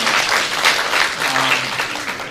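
Audience at a Korean campaign-style public event claps for an introduced guest, a loud, sustained round of applause from a crowded room with a faint voice beneath.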